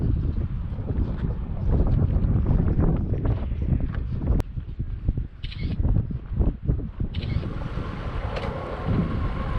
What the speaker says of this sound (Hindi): बोट से हम लोग निकल चुके हैं